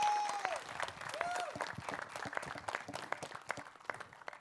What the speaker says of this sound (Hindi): एक बार जोरदार तालियां यार।